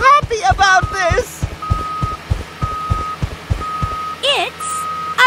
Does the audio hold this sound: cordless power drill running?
no